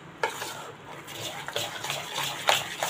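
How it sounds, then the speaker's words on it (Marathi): Moong dal batter gets whisked by hand in a bowl, producing soft wet slapping and scraping strokes in an irregular rhythm, with a few sharper clinks of utensil against the bowl, close and fairly quiet. "आपण हे थोडंसं हलकं जसं फेटून घेतो त्या प्रकारे, त्या पद्धतीने फेटून घेऊया आपण याला"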